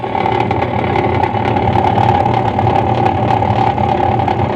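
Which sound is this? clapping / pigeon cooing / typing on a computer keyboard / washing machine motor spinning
washing machine motor spinning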